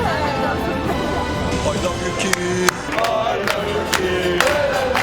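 Turkish volleyball fans cheer for Kim Yeon-koung in a packed arena, a steady roar of crowd noise punctuated by sharp claps and bangs, with a voice talking over it.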